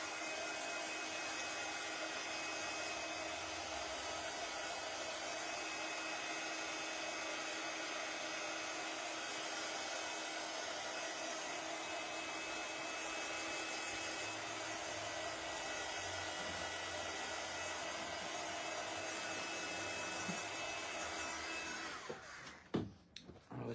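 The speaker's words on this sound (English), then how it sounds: "I'm going to see if my heat gun reaches over nearly. So I'm just giving that a blast." Heat gun blowing continuously for over twenty seconds, a steady airy whirring roar held at constant level, then cut off abruptly near the end.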